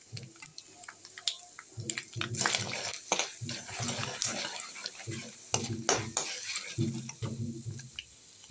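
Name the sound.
dry red chillies and chilli powder stirred in pan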